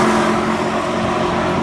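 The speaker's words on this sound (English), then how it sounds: "That engine just loves to rev." A powerful engine revs loudly and steadily, a deep rumbling roar held at high revs, close up and filling the whole moment.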